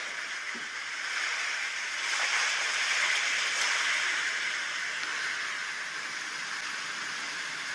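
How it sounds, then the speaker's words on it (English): A white noise machine's ocean waves sound: a steady, broad wash of surf-like noise swells gently and holds, continuous and moderately loud with no voices. "This is the ocean waves."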